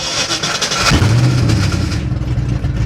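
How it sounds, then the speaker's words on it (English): A 1989 Ford Mustang GT engine cranks and catches about a second in, settling into a steady rumbling run with a deep exhaust note, loud and close. "Let's get this bad boy started up"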